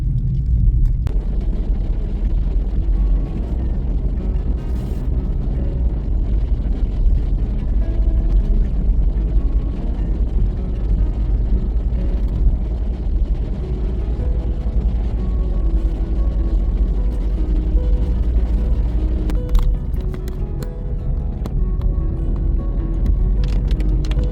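A car cruises home, heard from the cabin as a continuous low road and engine drone with faint ticks and rattles, steady and unbroken for the whole stretch, with no voices.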